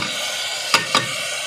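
Soaked moong dal tipped into a cooking pan and stirred, giving two quick, close scraping rustles a fraction of a second apart over a quiet background.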